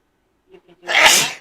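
One loud, sharp sneeze bursts out close by, just after a few quiet spoken words.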